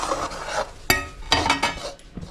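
A spoon stirs hot kajjaya syrup mixed with cardamom powder, poppy seeds and sesame seeds in a pan, with several sharp scrapes and taps over a soft sizzle, close by and without talk.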